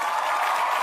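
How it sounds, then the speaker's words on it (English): Studio podcast applause for a returning guest: a short, steady burst of clapping or crowd applause filling the moment, with no voices over it. "Round of applause."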